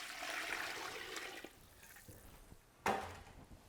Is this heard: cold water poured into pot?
yes